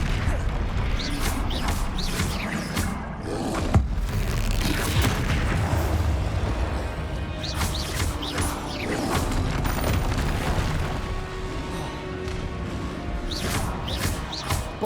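Bombarda blasting spells in Hogwarts Legacy go off repeatedly as booming, crashing impacts within a loud, dense mix of continuous combat effects.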